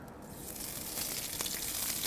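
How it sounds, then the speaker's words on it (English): Sliced potatoes sizzle in hot olive oil in a skillet, a dense hissing crackle that builds and stays steady, close by with no voices. "You can hear that sizzle right away."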